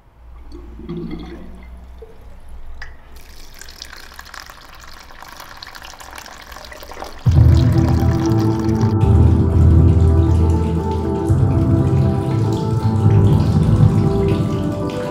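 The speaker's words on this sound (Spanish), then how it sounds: "Te pongo el agua." A kitchen tap runs steadily for several seconds, starting faint and then gushing loudly with a full, constant splash, no voices over it.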